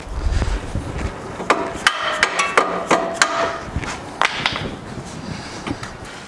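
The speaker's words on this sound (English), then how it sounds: "you might have to use a dead blow hammer just to seat the bolt in on the other side" Several sharp knocking strikes at irregular intervals from a dead blow hammer seating a bolt during A-arm installation on a CF Moto UForce 1000 XL, over a noisy workshop background.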